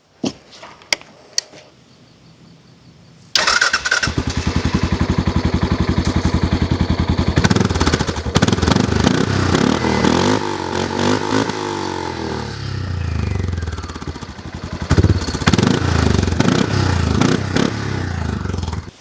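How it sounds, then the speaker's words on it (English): A few faint clicks, then a 2016 Arctic Cat Alterra 550 XT ATV engine fires up and idles loudly nearby with a throaty exhaust rumble, revving up and down several times. "Let's check out that exhaust sound."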